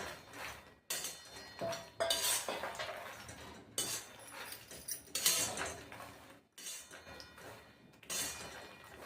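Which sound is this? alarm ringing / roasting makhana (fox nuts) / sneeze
roasting makhana (fox nuts)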